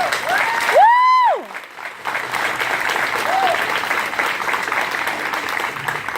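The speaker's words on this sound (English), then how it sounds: "can we give her one more round of applause?" A speech audience at an eating disorder awareness walk in Milwaukee claps steadily throughout, the applause continuous and fairly close, with a brief tonal electronic whistle or feedback sweep near the start.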